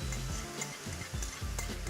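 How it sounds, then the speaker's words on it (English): A pork green curry stir-fry with sauce being stirred in a hot pan, with a steady sizzle and scraping stir strokes, close and continuous. "Give it a little stir"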